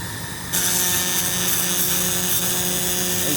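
LightWeld laser cleaning corroded metal, a steady loud hiss that starts abruptly and runs unbroken, with a faint tonal hum beneath it.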